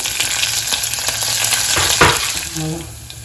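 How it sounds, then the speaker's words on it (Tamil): Mustard seeds and dal fry in hot oil, a steady close crackling sizzle with occasional pops and a brief scrape of a stirring spoon, with no voice over it. "கடுகு பருப்பு வந்து நல்லா வந்து ஃப்ரை ஆகிடுச்சு"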